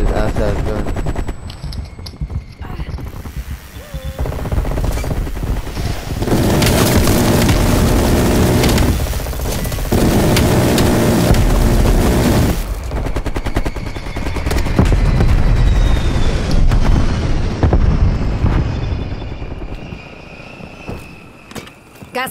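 Sustained automatic gunfire from a weapon in the video game Call of Duty: Cold War, loud and continuous in bursts with explosions and game effects, while players talk over it.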